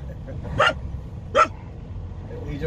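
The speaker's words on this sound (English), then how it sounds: "He just barks at people that he sees, no matter how far away they are." A dog named Max barks twice inside a car on a highway drive, two short sharp barks about a second apart over steady low road rumble.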